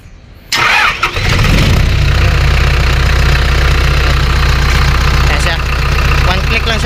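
Isuzu 4BG1 diesel genset engine cranks briefly, catches and settles into a loud, steady, knocking idle close by, with no change to the end.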